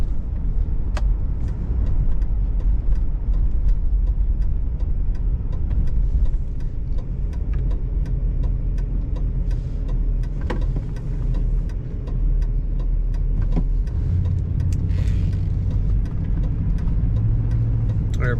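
A 1994 Cadillac Fleetwood Brougham cruises along with a steady, moderate low engine and road rumble; a few faint clicks and knocks sit on top of it, and no one speaks.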